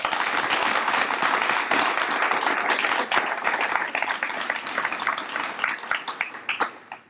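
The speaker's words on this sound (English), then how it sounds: "Please join me in applauding all of their amazing efforts." An audience at an elementary school ribbon cutting applauds the food service staff, a dense, loud burst of many hands clapping that thins into scattered claps and fades over the last seconds.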